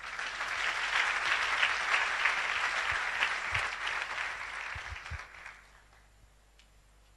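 A church congregation at a French-speaking Easter service claps together in sustained, dense applause, loud and even for several seconds before thinning and fading to near silence.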